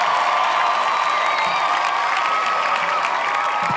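Dense crowd applause and cheering with scattered whoops fill the whole stretch for a dance squad from Yogyakarta at a televised dance competition, loud and steady throughout.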